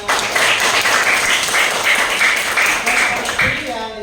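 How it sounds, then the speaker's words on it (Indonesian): An audience of schoolchildren claps steadily together, a dense, loud, even applause that holds for several seconds and then tails off. "Tepuk tangannya mana?"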